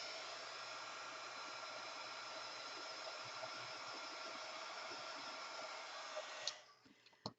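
Heat embossing tool blowing hot air to set and dry stamped ink on a card, a steady fan whoosh that cuts off near the end, followed by a few light handling clicks.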